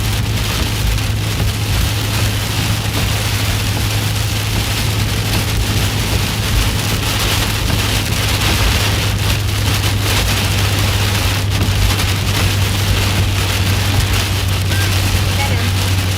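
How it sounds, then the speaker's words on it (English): Steady, dense rain pouring down continuously during a storm in Illinois and Indiana, a constant broadband hiss with a low rumbling hum underneath throughout. "Look at this rain."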